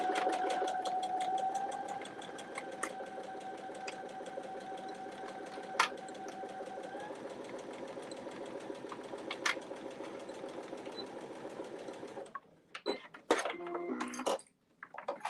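A sewing machine runs steadily, stitching the long edge of a sling's lining at a 3/8 inch seam allowance, with a continuous whirring motor and rapid needle rhythm that stops near the end, followed by a few handling clicks.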